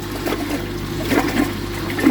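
Water rushes steadily as it is flushed behind the inlet of a Nexus pond filter packed with K1 media, giving a continuous close wash with slight surges.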